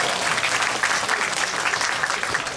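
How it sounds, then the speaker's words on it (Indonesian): Steady, dense applause from an audience of civil servants at a mental guidance session held by the Aceh regional religious affairs office. It fills the whole stretch at an even, loud level, with no clear voice over it. "Tepuk tangan dulu dong."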